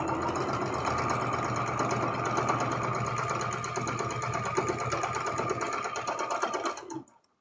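A sewing machine runs continuously as rows of a heart rag quilt are stitched together, a loud, even mechanical whir with rapid needle chatter that stops abruptly near the end.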